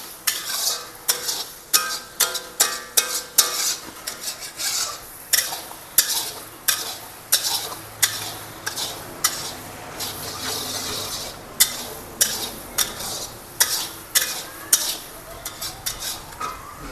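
A tadka for chicken pickle is stirred and fried in a pan, with rhythmic, repeated scraping strokes of a spoon or ladle over a constant background sizzle, close and fairly loud throughout.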